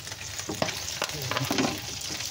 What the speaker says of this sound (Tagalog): Takpan ulit natin kasi tumatalsik ang mantika eh.